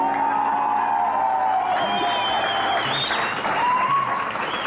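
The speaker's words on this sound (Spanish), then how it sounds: "¿Y el aplauso?" A studio audience on a television set applauds steadily, a continuous dense patter of clapping mixed with crowd murmur, a few whoops and high cheers rising midway.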